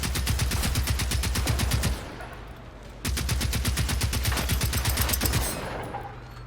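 Automatic weapon fire in the shooter game Generation Zero: two long, rapid bursts of close, loud shots, each about two seconds, separated by a brief pause filled with ringing ambience and echo.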